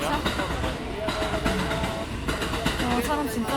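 A train on the rail line to Suzuka during the Japanese Grand Prix weekend in Japan, with a steady rolling rumble and faint rhythmic clatter under crowd chatter and people talking nearby.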